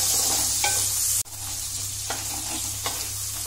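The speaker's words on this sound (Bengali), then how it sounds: "এটা আমি গোল্ডেন ব্রাউন করে ভাজবো, পেঁয়াজ বেরেস্তা করব এটা আমি" Sliced onions fry in hot oil for biryani, a bright, continuous close-up sizzle with a few soft stirring taps and one brief dropout, with nobody talking.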